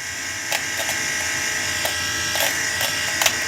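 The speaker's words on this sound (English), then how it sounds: "it's cutting nicely and it's not pulling my nose hairs" A steady high electric buzz of a small trimmer running close up, with brief crackling snips as it cuts.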